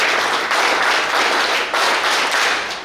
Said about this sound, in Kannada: ಚಪ್ಪಾಳೆ ಇಷ್ಟ